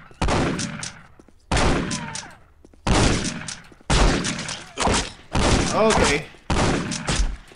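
Repeated loud gunfire bursts in the video game Postal 2, roughly six heavy blasts spaced about a second apart, each with a ringing tail, while a voice speaks briefly between them.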